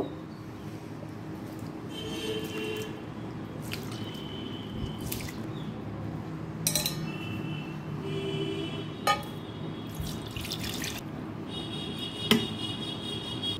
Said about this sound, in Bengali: সবার আগে চালটাকে ভালো করে ধুয়ে নেব। তিনবার জল পাল্টে পাল্টে ভালো করে ধুয়ে নেব।